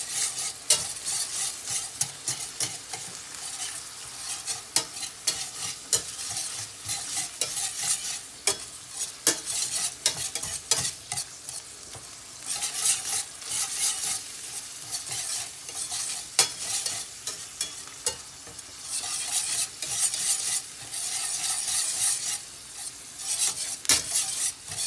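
A utensil stirs and breaks up chopped meat frying in a pan, a steady scraping and sizzling that runs continuously with no talk.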